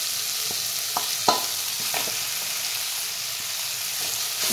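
Mashed amla stirred and frying in a hot pan, a steady soft sizzle with a few sharp scraping clicks from the spoon, close and alone.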